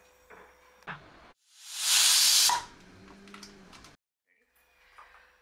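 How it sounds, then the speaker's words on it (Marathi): A pressure cooker cooking moong dal lets out one loud, sharp burst of steam hiss lasting about a second, with faint kitchen clatter and quiet stretches before and after. "आता हे आपण कुकरला लावूया आणि 3 शिट्ट्यामध्ये मुगाची डाळ होते"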